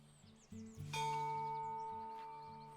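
A doorbell in the game Botany Manor rings out in a bright, sustained two-tone ding-dong that rings on and slowly decays, with faint bird chirps behind it.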